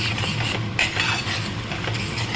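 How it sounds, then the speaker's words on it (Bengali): Turmeric, Kashmiri chilli, coriander powder and salt being sautéed in oil: a short burst of scraping and stirring with a soft sizzle, close and fairly loud. "এবার এটাকে ভালো করে কষাবো"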